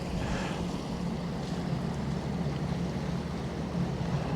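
Fully loaded barge passing along a canal, a faint low drone of its engine blended with wind rumbling on the microphone, steady and distant, no talking.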